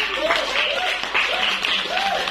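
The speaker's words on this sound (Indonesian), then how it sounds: "Luar biasa, tepuk tangan." Classroom audience at a madrasah school in Baubau clapping steadily, a dense wash of hand claps with a voice faintly heard over it.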